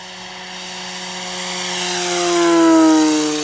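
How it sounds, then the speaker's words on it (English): A Yak-11 RC model plane roars past at full throttle, a steady high engine whine that swells as it nears and drops in pitch as it passes close by, with no talk. "Full throttle pass, shall we?"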